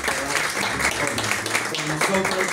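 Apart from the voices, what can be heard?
applause for Marcela Girabert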